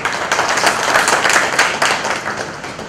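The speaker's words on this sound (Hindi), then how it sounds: "तो हम सभी डॉक्टर अपने आप के लिए एक बार जोरदार तालियां हो जाए," Loud, close clapping from an audience of doctors at a motivational program, a dense burst of many hands lasting about three seconds.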